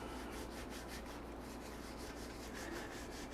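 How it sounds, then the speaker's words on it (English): Seasoning and pepper are being rubbed by hand into pork chops, making a continuous close, soft scrubbing noise with faint repeated rubbing strokes and no voices. "what we're gonna do is we're gonna rub it in very well"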